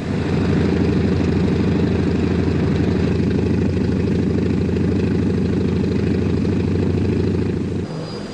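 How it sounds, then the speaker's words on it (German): The piston engines of a Vertol H-21C "flying banana" transport helicopter run at idle on the ground in 1965, a loud, steady, throbbing low rumble that continues unbroken before easing off at the end. "Inzwischen werden bei den Transporthubschraubern die Motoren angelassen."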